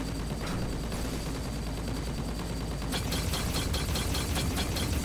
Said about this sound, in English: his turrets are shooting awesome